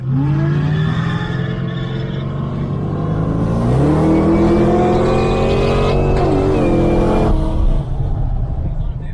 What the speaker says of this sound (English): Just VFGTS, built engine on it, still the LSA supercharger, turbo 400, and just a good fun skid car.